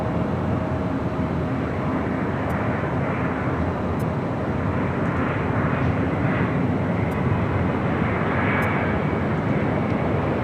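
An Airbus A350-900 airliner arriving at LAX, a loud, steady broadband jet engine roar that holds constant throughout with no break.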